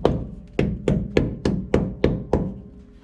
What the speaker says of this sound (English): Got the rubber mallets. See if I can just help break the seal a little bit.